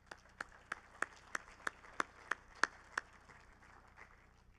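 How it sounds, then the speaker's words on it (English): A handful of sharp, separate claps at a steady pace from a small audience at a transportation forum, thin and sparse rather than a full ovation, tapering off into quiet. "Please join me in thanking them with a round of applause."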